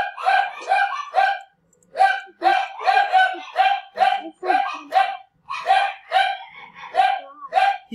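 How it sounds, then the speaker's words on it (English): Wild dogs in a video game bark and yip in rapid, sharp bursts, about a dozen close, loud barks in uneven clusters separated by brief silences. "The wild dogs are back!"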